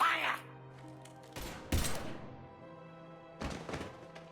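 Gunfire in the sci-fi shooter Mass Effect 3: a few sharp, heavy shots and thuds spaced apart over a quiet background hum, loud and close.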